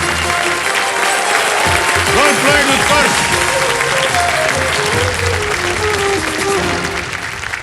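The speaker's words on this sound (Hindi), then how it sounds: "ताली बज गई, बिल्कुल सही जवाब।" Studio audience on a televised quiz show bursts into loud, sustained applause, dense clapping filling the space with a voice speaking briefly over it.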